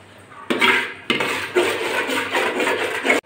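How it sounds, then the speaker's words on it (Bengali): Garlic tomato sauce is scooped from a cooking pot onto a plate in a series of wet, scraping scoops and soft metallic knocks, close and moderately loud, with no talking. "টমেটো সসটা বন্ধুরা আমি ডেস্কি থেকে একটা থালাতে তুলে নিচ্ছি"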